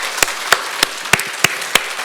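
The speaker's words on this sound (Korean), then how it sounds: "우리 저 뒤에 계신데 함께 기쁨의 박수 올려드렸으면 좋겠습니다." A church congregation applauds during a Holy Week special service, with steady, rhythmic claps about three per second standing out over a diffuse wash of crowd noise in a large room.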